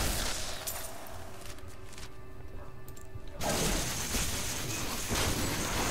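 Rocket and firecracker skill explosions in the video game Diablo 3, dense crackling blasts and bursts with a brief quieter gap, loud and continuous.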